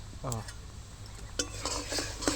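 A spoon scrapes and clinks in a pan while tomato sauce made with Kashmiri red chili is stirred, giving soft repeated metallic taps and scrapes over a steady faint background hiss.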